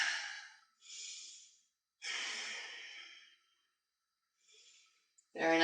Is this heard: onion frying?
no